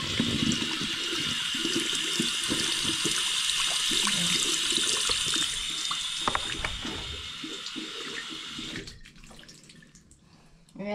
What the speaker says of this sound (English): when you wash this one, just pull it out and you wash this part